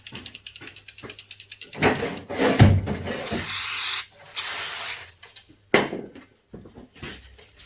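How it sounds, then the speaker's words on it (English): A wheel spindle from a Suzuki DR200 motorcycle being rubbed with sandpaper during a front wheel bearing job: loud, close rasping strokes come in separate bursts with short pauses between them. "I'll work on the wheel spindles. I'll need some sandpaper for that, I think."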